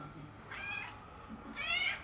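An injured female cat meows twice, short plaintive calls spaced about a second apart, moderately close, with faint background noise.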